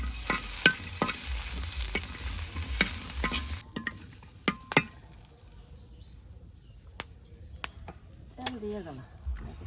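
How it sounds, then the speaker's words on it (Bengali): Green chillies frying in mustard oil on a griddle for a Bangladeshi village-style burnt aubergine mash, a loud broadband sizzle for the first few seconds, then quieter crackling with scattered clicks and pops. "এই যে কাঁচামরিচগুলো এখন ভেজে নেওয়া হবে আপনার বেগুন ভর্তা করার জন্য"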